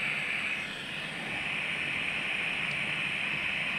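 A butane soldering torch roars with a continuous, even, jet-like hiss that holds steady for several seconds, close and fairly loud, with no speech over it.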